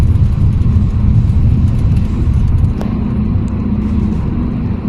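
A Honda Civic FE Gen 11 on Profender FitZ suspension cruises over road joints. A loud, continuous low road rumble and engine drone come from inside the cabin, with a faint knock partway through.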